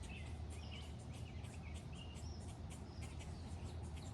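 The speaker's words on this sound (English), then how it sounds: "The squirrels are chasing each other in the willow behind me, if you can hear all that chirping" Squirrels chase each other through a willow tree in a Zone 5 garden in May, giving faint, rapid high chirps that repeat again and again over a steady outdoor hiss and low rumble, with no talking.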